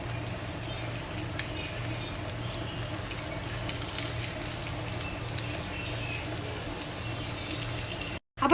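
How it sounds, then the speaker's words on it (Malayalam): Prawn cutlets fry in oil over a low flame, giving a steady, even sizzle and crackle throughout, close and moderately loud. "ഇത്രയിട്ട് നമുക്ക് ഫ്രൈ ചെയ്തെടുക്കാം"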